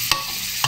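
Jereesh porridge is stirred in a pot, with two sharp utensil scrapes over a soft, steady hiss from the cooking.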